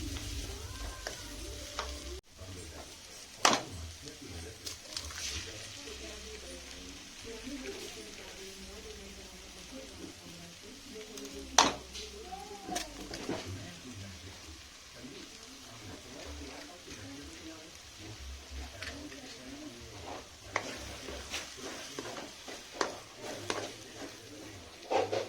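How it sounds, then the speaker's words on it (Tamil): Two eggs frying and being stirred in a pan with tomato, ginger and garlic paste, a steady soft sizzle with scraping stir strokes and occasional utensil clicks against the pan, under a low voice. "முட்டை ஊற்றி நல்லா முட்டை நல்லா வேகிற அளவு கலரிக்குங்க"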